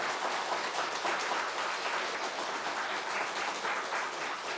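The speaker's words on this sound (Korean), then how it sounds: "박수를 한번 보내주십시오" An audience at a Buddhist temple dharma service applauds, a dense, steady wash of many hands clapping that is moderately distant and fairly soft, sustained with no talking over it.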